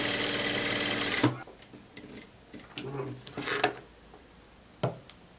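A sewing machine running a long gathering stitch down the middle of fabric: a rapid, even whirring chatter for about a second, then it stops and scattered handling clicks and taps follow, faint and close.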